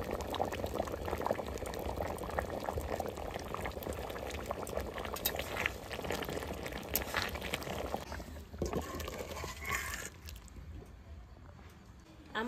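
Potato curry bubbling and sizzling in a pan, a steady dense simmer that runs loud for most of the stretch, then thins out and quiets toward the end.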